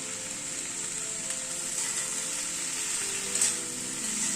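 Curry sizzles steadily in a frying pan on a gas flame while being stirred, a constant close frying hiss with faint scraping underneath.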